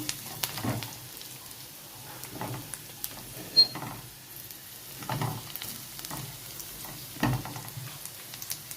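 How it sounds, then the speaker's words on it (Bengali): Chopped tomato fries on a high gas flame for egg bhujia, giving a soft, intermittent sizzle with bursts of crackle and stirring scrapes at close range. "দিয়ে দিলাম টমেটো কুচি, গ্যাসটাকে হাই করে দিলাম।"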